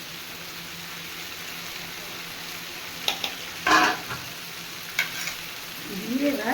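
A ground paste of small shrimp, onion, garlic and green chili fries in oil in a pan with a low, quiet sizzle, broken by a few brief stirring scrapes, and a voice speaks briefly at the end.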